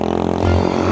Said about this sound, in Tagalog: Tibay ng motor ah.